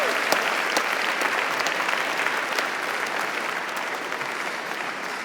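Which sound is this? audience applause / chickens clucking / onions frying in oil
audience applause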